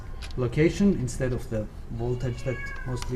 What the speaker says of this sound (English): that's a cat behind us having a hard time with something